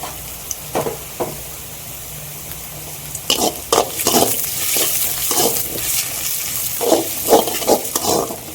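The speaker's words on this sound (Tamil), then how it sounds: "இப்போது இது வந்து ஆக்சுவலாக வதங்கி முடிக்க போகுதுன்னு நினைக்கிறேன்" Vegetables for veg fried rice being stir-fried in a pan, with a low steady sizzle broken by bursts of scraping and stirring strokes that come in irregular clusters, close and alone with no voices.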